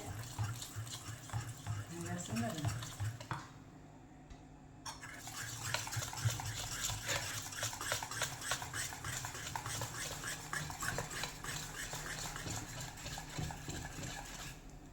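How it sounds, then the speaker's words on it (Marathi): A whisk beats chocolate cake batter with oil in a bowl, making rapid, steady scraping clicks close by. The whisking stops for a brief pause, then continues at an even rhythm. "विस्करने असं व्यवस्थित मिक्स करायला घेतलेलं आहे."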